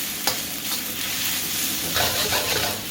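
Onions fry in a carbon steel wok for drunken noodles, a loud, close, steady sizzle with brief scraping bursts from a metal utensil.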